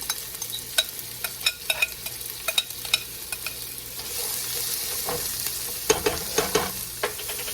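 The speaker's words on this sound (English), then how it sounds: "these onions and add some garlic. And we just want to get them to where they're translucent" Onions and garlic sauté in a pan with a continuous low sizzle, overlaid by a series of sharp clicks and scrapes from stirring that come in bursts throughout.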